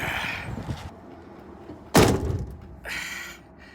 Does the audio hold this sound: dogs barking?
no